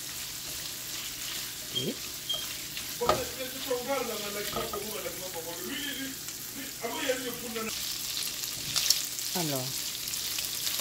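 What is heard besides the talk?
shrimp frying in oil and butter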